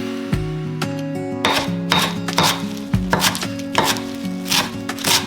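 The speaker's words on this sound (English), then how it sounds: "You can cut the veggies however you like." A knife chopping cut vegetables on a cutting board, with a run of sharp, close knocks at an uneven pace, heard over steady background music.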